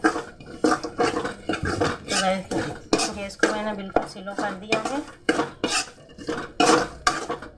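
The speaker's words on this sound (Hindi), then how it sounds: "और इसको अच्छे से चलाऊंगी" Cashews stirred in ghee in a pan over a low flame, with repeated metallic scraping and clinking of a spoon against the pan under steady talk from a woman.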